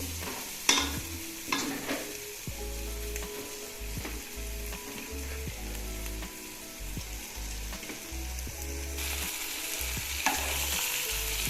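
Chicken pieces dropped one by one into frying masala for Palakkad-style chicken biryani, a close, steady sizzle with occasional sharp clinks and stirring knocks over a low humming background, no voices.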